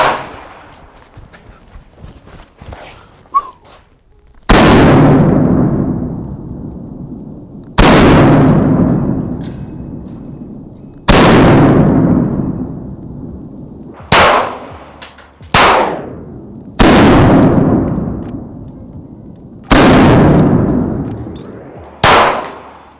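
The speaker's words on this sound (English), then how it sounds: "I'm gonna load up one more mag, shoot from 7 to 10 yards away" Pistol shots fired one by one at a target from about 7 to 10 yards, with loud sharp reports separated by pauses of a few seconds, most followed by a long ringing decay, two shots coming in quicker succession.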